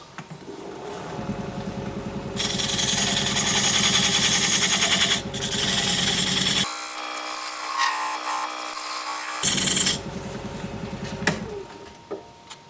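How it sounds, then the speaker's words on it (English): Wood turning on a lathe as a diamond point tool scrapes the spinning piece in loud, rasping bursts, with the motor humming in quieter gaps between passes. "I'm just going to use this diamond point tool to square up the sides."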